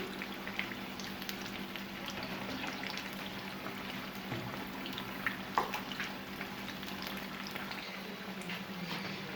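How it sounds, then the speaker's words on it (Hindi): Chicken and vegetable samosas fry in hot oil with a steady, low bubbling sizzle, broken by a few soft clicks and knocks, and nobody talks. "ये फ्राई हो चुके हैं"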